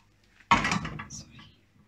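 A single close clatter as a cooked breakfast is slid from the pan onto a plate, a sharp hit followed by a short scraping rattle that fades within a second.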